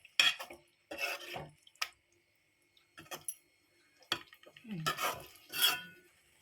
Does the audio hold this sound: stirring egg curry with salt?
yes